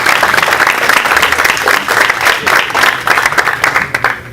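An audience at a Startup Grind Lima event breaks into loud, steady applause, dense clapping filling the room without pause.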